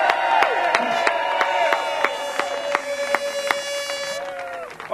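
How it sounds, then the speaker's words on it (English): A rally crowd claps and cheers across the whole stretch, loud and steady, with a few scattered whoops rising over the dense applause. "how about a round of applause"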